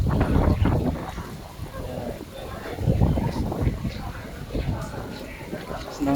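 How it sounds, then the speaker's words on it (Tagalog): Strong typhoon wind gusting across Lamma Island at night, a loud, steady roar with surging buffets against the microphone, while people talk close by throughout. "Lakas ng hangin, dito tayo."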